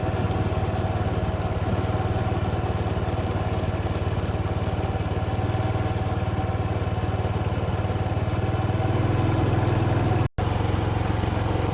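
A motorcycle engine drones steadily while riding up toward the Phu Fai temple in Khun Han, Sisaket, Thailand, a continuous close mid-pitched hum with a slight rise in the last seconds.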